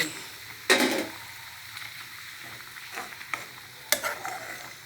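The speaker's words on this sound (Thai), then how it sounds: "เดือดแล้วนะคะ สุกแล้วนะคะใบยี่หร่าลงเลย" Pot of Thai jungle curry with beef tenderloin and bitter eggplant simmering as cumin leaves go in, with a faint steady bubbling underneath two sharp bursts of stirring or scraping, no talking.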